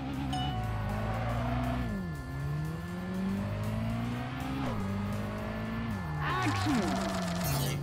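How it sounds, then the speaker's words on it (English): Cars drift through a drift battle in Tokyo Xtreme Racer: Drift 2, with a revving engine rising and falling as it shifts gears and tires squeal during the slides. Loud and continuous, with a brief burst of extra screeching near the end. "Ah, it's a drift battle."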